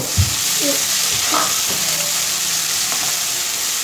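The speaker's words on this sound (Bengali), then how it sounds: "আমি এখানে জিরা আর রসুন বাটা দিয়ে একটু ভালো করে ভেজে নেব।" Cumin and garlic paste fry in a pan over browned onion for a hilsa and pointed gourd curry, with a constant loud sizzle and occasional stirring scrapes.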